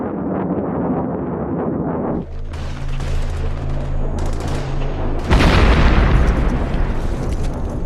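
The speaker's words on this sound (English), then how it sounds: "A US AC-130 gunship strafes the mountain ridge." A US AC-130 gunship strafes a mountain ridge during the Takur Ghar battle, its gunfire a loud, continuous broadband roar that swells further partway through, with no voices.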